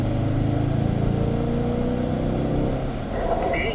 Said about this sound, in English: Now you can accelerate all the way out right after that white line there, Tim.